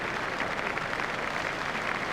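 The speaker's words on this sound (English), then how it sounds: "Everyone is standing to applaud him off the field" A cricket crowd applauding batsman McMillan off the field as he walks off in a New Zealand versus Australia match, a steady wash of clapping throughout, distant and even.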